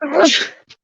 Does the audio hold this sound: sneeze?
yes